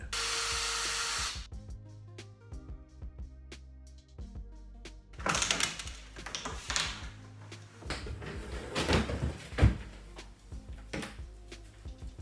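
Screws come out of a piano hinge on a kitchen cabinet during a tear-out, heard as short close bursts of a power driver separated by quiet gaps, with knocks and clatter as the hinge is pulled free.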